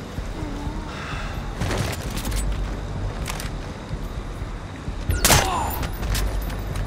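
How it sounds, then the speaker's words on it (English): Gunfire in Splinter Cell: Blacklist, a few sharp loud bursts scattered over a noisy game background, with the strongest shot cluster near the end. "I'm totally shooting everybody in the face"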